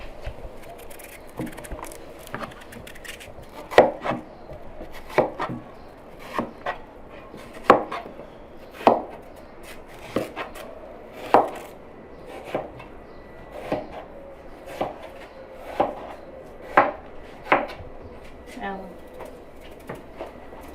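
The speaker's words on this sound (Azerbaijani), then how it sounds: "Bunu qarpız kimi çox da nazik doğranılır." Watermelon rind being chopped thinly with a knife on a board for jam, a steady series of about fifteen sharp, evenly spaced chops over faint background voices.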